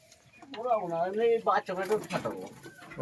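Pigeons coo close by in soft, warbling repeated calls, with a brief rustle partway through and no talk.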